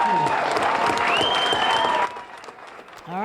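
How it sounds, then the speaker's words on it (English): A room of supporters at an election night victory speech in Virginia Beach breaks into loud, sustained applause with cheering. The crowd noise dips after about two seconds while a voice rises over it. "Let's give everybody in this room a round of applause for our volunteers"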